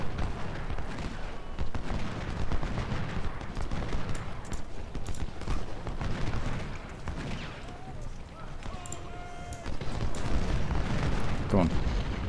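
Massed troop volleys in a video game battle, a dense, continuous roll of gunfire and booming rumble that fills the whole stretch, with faint voices mixed in.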